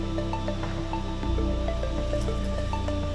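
Water poured into a hole to flush out a keelback snake, soft dripping and trickling splashes over a steady low outdoor hum, fairly faint and continuous.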